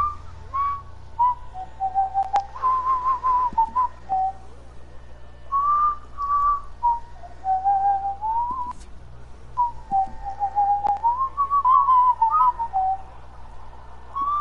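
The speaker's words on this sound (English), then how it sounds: "I can hear whistling" A man whistles a wandering, melodic tune in the Western video game Red Dead Redemption 2, loud and continuous with short breaths between phrases over a low steady background hum.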